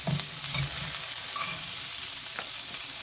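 Onions and potatoes frying in a pan for a Ghanaian meat pie filling give a steady, close sizzle with occasional stirring scrapes throughout, and no one talks.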